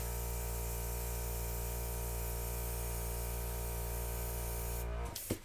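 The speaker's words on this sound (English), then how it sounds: "you can take your airbrush, start up high, work your way down until you see the paint move" An airbrush blowing air over poured acrylic paint, a faint, steady hiss over a low mechanical hum that cuts off abruptly near the end.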